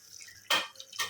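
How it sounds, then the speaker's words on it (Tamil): Water is poured over curry meat in a cooking pot, two short bright splashing bursts separated by a brief pause, close and fairly loud against a quiet background. "கறி வேகிற அளவுக்கு தண்ணி ஊற்றிக்கிறோம்"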